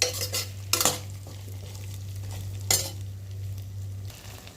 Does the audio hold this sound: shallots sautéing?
yes